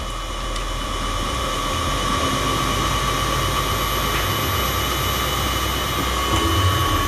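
A honey extractor spins with all frames removed, giving a loud, continuous mechanical whir and rumble that holds steady throughout with no talking.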